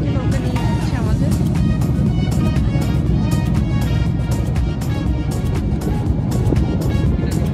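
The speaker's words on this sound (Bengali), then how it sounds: "এখন দেখতে পাচ্ছেন যে আমাদের নৌকাটা ছেড়ে দিয়েছে" Motor boat pulling away across a river, a continuous loud engine drone with water noise and rapid ticking beats running throughout, a voice talking over it.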